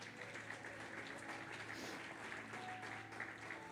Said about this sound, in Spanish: Denle un aplauso a la iglesia amada.